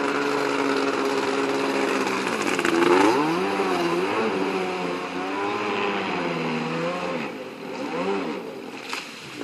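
A Kawasaki JS300 jet ski fitted with a 650 engine runs nearby, its raspy two-stroke drone rising and falling in pitch through several throttle swells over the full stretch, with no talk.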